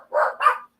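A dog gives two quick, close barks in a row, then falls silent.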